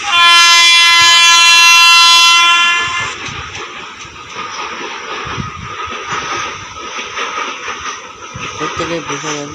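A moving train blares a loud, sustained horn that stops after about three seconds, followed by continuous rumbling and rattling of the train in motion.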